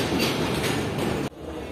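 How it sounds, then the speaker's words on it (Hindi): Tezgam passenger train with a ZCU locomotive arrives at Rohri Junction platform 1 in Pakistan, a loud rolling rumble with rhythmic clatter that suddenly drops away near the end. "तो ये ट्रेन जो है वो प्लेटफॉर्म नंबर 1 पर आ रही है"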